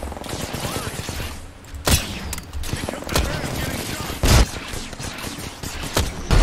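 Gunfire in the video game Apex Legends, with bursts of rapid shots and sharp louder cracks over a dense, continuous game soundscape while players talk over it.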